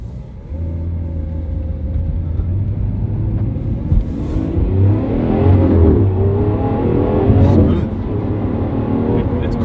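Lamborghini Aventador V12 fitted with a Royalty aftermarket exhaust, revving in cold conditions with a limited rev range; a steady, loud engine drone swells through repeated throttle blips, with voices talking over it.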